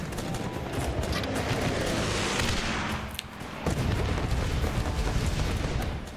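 A Guns Up! bombing run sets off a barrage of rumbling explosions and crackling blasts, loud and continuous, dipping briefly before another heavy wave of detonations.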